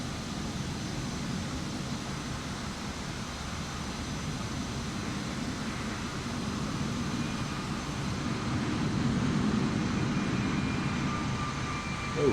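A simulated airliner comes in to land at Philadelphia in the BFU flight simulator game, a steady broadband engine rumble and roar that holds throughout and swells slightly toward the end, with no talk.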